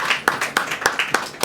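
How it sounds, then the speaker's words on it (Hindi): Audience clapping at a Bible study session: a short run of sharp, evenly spaced claps, about six in quick rhythm, close and fairly loud with no talk over them. "ताली बजाओ"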